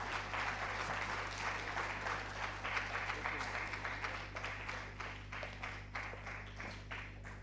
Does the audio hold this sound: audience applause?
yes